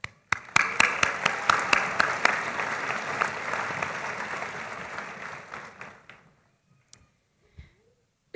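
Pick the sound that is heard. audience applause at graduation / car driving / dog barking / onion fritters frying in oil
audience applause at graduation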